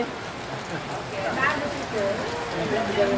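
Rain falls steadily outdoors at a Rambu Solo' funeral ceremony in Tagari Pulio Balusu, a continuous hiss under voices talking.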